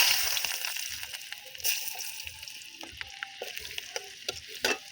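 Chopped garlic dropped into hot fish oil left over from frying catla fish, giving intermittent crackling sizzle and spatter with stirring clinks and scrapes in bursts, close up and fairly quiet.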